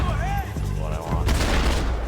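Rifle fire in Max Payne 3: a couple of heavy booming shots with a burst of crackling gunfire near the end, close and loud, with a voice briefly heard at the start.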